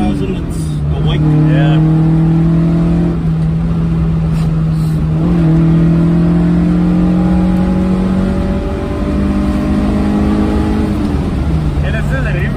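A Toyota Corolla KE70 engine, running with no rev limiter, is held at high, steady revs. Its loud, droning note rises and dips slightly as the throttle shifts. Faint talk sits underneath.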